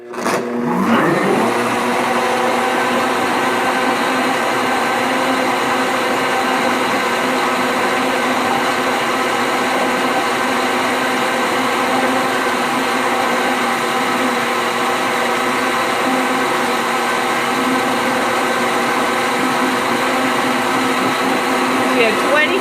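A blender churns cream into butter and buttermilk, a loud, even motor whir that starts abruptly and holds steady for the whole stretch, with no voices over it.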